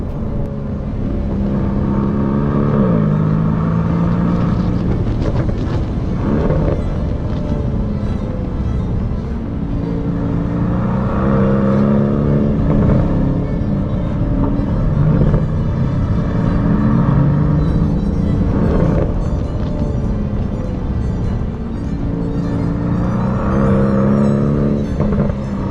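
Aston Martin DB12 sports car driven hard along back roads, a steady loud engine drone with rising and falling revs through the gears, heard from inside the cabin throughout with no talking.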